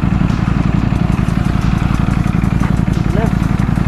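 A Ducati V4 motorcycle engine runs steadily and close by, with a dense, rumbling low-end roar that holds throughout, while people talk over it.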